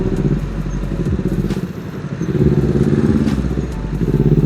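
A Kawasaki Z250 fitted with a racing exhaust, ridden through a traffic jam. Its low engine rumble and idling putter is close and loud, with other motorcycles around, dipping briefly and then building again.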